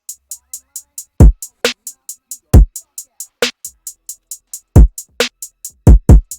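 Trap drum loop built from a Shinzo kick with bass, layered snare and hi-hat: rapid steady hi-hat ticks over booming kick-and-bass hits and sharp snares, loud and dry with no talk.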